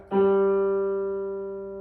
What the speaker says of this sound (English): G on the guitar.